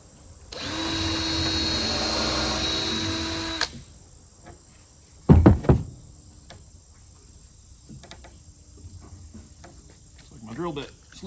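A power drill whirs for about three seconds at a steady speed while driving a screw into a closet cabinet, followed by a short clattering burst and then quiet with a faint voice near the end.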